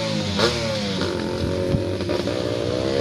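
Motorcycles ride past on a muddy farm trail, a continuous close engine drone with shifting revs and a rumbling low end, loud throughout with no speech.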